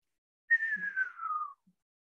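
A person whistles a single smooth descending note, imitating the falling tone of a pulsar signal as high frequencies arrive before low ones, clear and alone for about a second.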